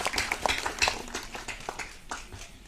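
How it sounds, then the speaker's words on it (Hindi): An audience claps at a film trailer launch event in a mall, steady scattered applause at moderate distance that gradually thins out. "जोरदार तालियां ladies and gentlemen"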